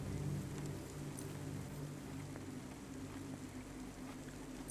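Steady, soft rain falls outside a restaurant in the video game Cloudpunk, a continuous low wash of patter with a faint hum beneath and no voices.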